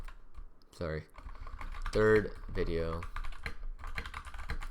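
Computer keyboard keys clatter steadily while code comments are typed, with a voice talking in short bursts over the clicking.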